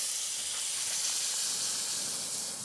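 A guinea pig (cuy) goes into a frying pan of hot oil, giving a loud, steady hissing sizzle that holds evenly across the moment, close up and without speech.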